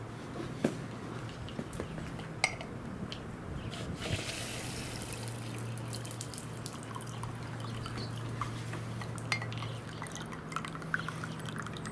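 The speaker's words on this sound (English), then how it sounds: "So I'm gonna fill this up with a bit of water here." Water runs into a container of water-retaining crystals in a steady, faint trickling pour lasting several seconds, with a few small drips and knocks and no talk.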